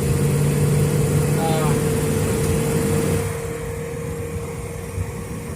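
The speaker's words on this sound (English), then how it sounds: "I don't know if you can hear the engine on the camera or not" Steady low engine rumble of a Ford Fairlane idling, constant and close, with a brief voice sound partway through before the noise drops slightly quieter.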